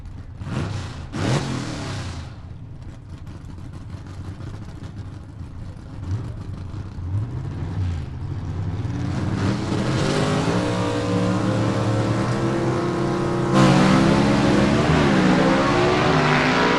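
Southeast Gassers Association drag racing, with a 53 Chevy gasser among the cars, as engines rise from a rumble into loud, climbing acceleration. The roar sweeps upward in pitch and swells to a peak as the cars run down the strip.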